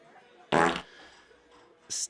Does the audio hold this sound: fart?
yes